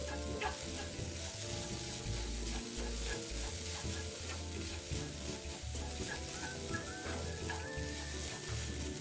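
Spiced grated coconut stir-fried in a pan, a constant close sizzle with continual scraping and stirring, steady and loud throughout with no voices.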